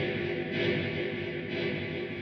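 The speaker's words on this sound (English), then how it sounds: "what's going to happen now is the delay is going to be fed into the reverb" A guitar signal run through a Nux Atlantic pedal in serial mode, with the delay feeding into the reverb, producing a dense, sustained ambient wash with gentle swells and no speech.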